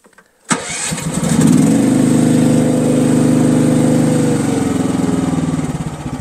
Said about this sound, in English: I am gonna tell you guys what the decibels are on this thing, tell you how loud this thing is, get her started up.